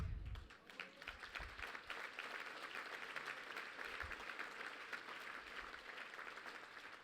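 Audience clapping at a Martin Luther King Jr. breakfast, a sustained, even wash of many hands heard quietly from a distance, with a few low thumps near the start and no talk on top.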